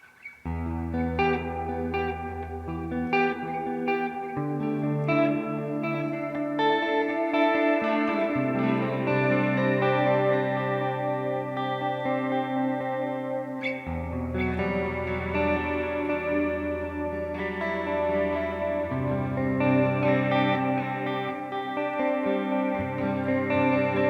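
An electric guitar played through a Valeton GP-50 multi-effects unit on a worship preset rings out in sustained, deep chords with lush reverb and echo for over twenty seconds, with no talking.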